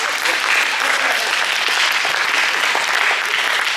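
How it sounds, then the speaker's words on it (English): Audience applause at a post-prom hypnosis show in a high school setting, a dense, steady burst of clapping from a crowd, close and loud throughout the few seconds. "Give them another big round of applause."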